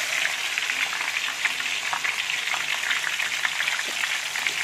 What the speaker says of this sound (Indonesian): Tahunya digoreng tipis-tipis